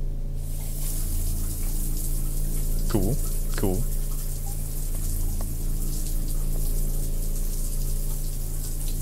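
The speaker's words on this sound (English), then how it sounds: "taking a shower now" Shower water running in a bathroom, a constant loud spray and patter filling the space, with a person speaking briefly over it.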